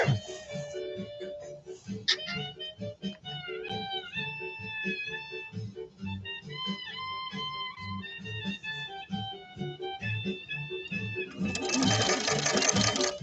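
A 1931 Singer 101-4 sewing machine, restored after arriving in rough shape, runs continuously with a steady rhythmic hum and tonal whine, building louder near the end, with no talk over it.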